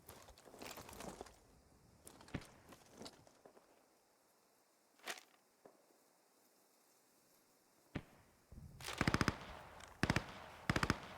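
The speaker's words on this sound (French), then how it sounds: "Peut-être eu des tirs lointains." Distant gunfire in the World War II shooter Squad 44: faint, scattered pops and short bursts, then louder rapid automatic volleys near the end, over quiet outdoor ambience.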